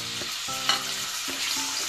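Mixed vegetables for sambar stir-fried in a pan over medium heat, a soft steady sizzle with a few stirring scrapes and knocks, close and alone.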